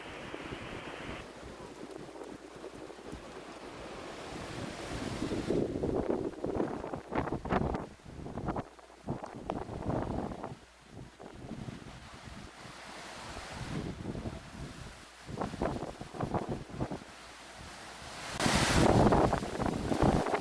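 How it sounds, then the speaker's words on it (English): Loud wind roars through a radio transmission during a Southern California wildfire, a gusting rumbling rush with surging peaks and crackly bursts across the whole stretch. "The wind is very loud too."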